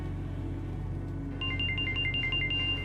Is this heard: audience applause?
no